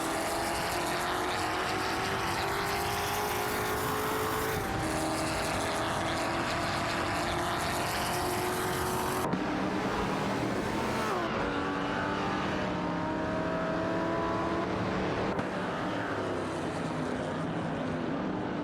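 Race cars roaring in a video game, a Lancia Stratos and a Ferrari 250 GTO among the pack, engines whining and shifting continuously at high revs, loud and dense with abrupt cuts between passes.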